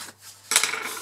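A paper fold on a pen box lid is burnished, giving a short, close rasping rub that begins abruptly halfway through and continues as a steady scraping.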